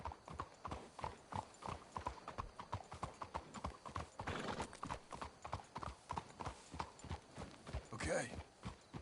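Horses' hooves clip-clop in a steady walking rhythm in the open-world western game Red Dead Redemption 2, with tack rattling and a brief snort or whinny near the end.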